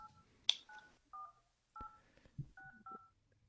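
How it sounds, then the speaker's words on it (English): Someone dials in on a telephone keypad, a quick series of short two-tone DTMF beeps with uneven gaps, faint and close, with a sharp click near the start and light handling noise between tones. "if they can detect a phone number just by the sounds of the keys"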